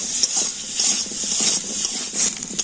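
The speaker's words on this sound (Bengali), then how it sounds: "আলুটা কিন্তু খুব সুন্দর করে আমি ভেজে নেব" Potato pieces with turmeric and salt fry in a pan, giving a bright, steady hiss that swells and eases, with faint scraping from stirring, close up and with no talk.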